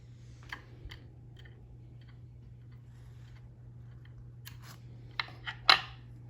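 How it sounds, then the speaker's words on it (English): Scissors snip thread tag ends at a fly-tying bench while a Bucktail Deceiver is tied, with a few faint clicks, then several crisp, close snips near the end over a low steady hum. "And we'll cut off those tag ends."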